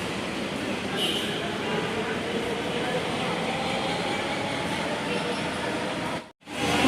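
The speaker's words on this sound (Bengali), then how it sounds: "মাত্র একটা মেট্রো ভিড়ল এখানে।" A metro train pulls into an elevated station, a loud, steady rumble and rush of wheels and wind that holds throughout, then drops away sharply near the end.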